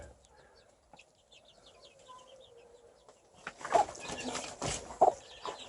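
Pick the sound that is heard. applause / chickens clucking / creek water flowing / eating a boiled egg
chickens clucking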